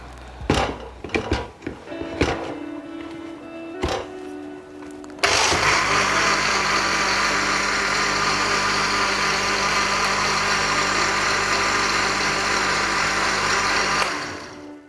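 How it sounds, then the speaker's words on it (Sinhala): Electric blender whirring steadily for about nine seconds as it blends passion fruit juice with ice water, after a few clunks and knocks while the jar is set up, then the motor winds down. "අපි මේක දැන් ආයෙ පොඩ්ඩක් වෙලා බ්ලෙන්ඩර් කරගමු."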